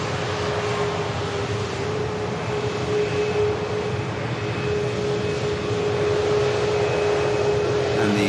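Aircraft at Manchester Airport produce a steady, continuous engine roar and whine at moderate distance, a constant broadband rumble with a faint sustained tonal hum running throughout.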